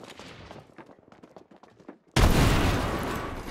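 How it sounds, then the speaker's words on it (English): Frag grenade thrown in a video game, preceded by scattered sharp gunshots and clicks, then a sudden loud explosion that bursts in and stays as a heavy roaring rumble to the end. "Throwing frag."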